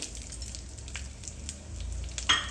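Cumin seeds, coriander seeds and chillies frying in a couple of spoons of hot oil in a pan, a steady close, soft sizzle with a brief louder crackle near the end.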